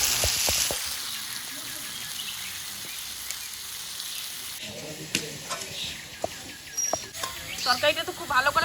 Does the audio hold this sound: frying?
yes